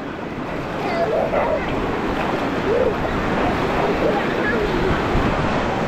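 Ocean surf rolls in at Ocean City, New Jersey, in summer, a broad constant wash of waves with wind rumbling over the microphone.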